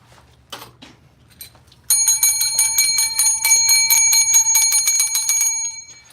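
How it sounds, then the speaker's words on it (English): A bell struck repeatedly on a livestream, giving a bright, ringing run of rapid strikes with sustained metallic overtones that lasts about four seconds, loud and close after brief quiet rustling. "I gotta hit the bell."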